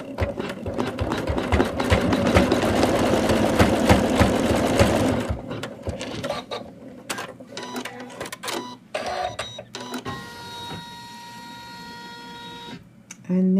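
An embroidery machine stitches the next color of a Santa doll with a loud, fast, continuous mechanical chatter that stops partway through, followed by quieter clicks and handling sounds.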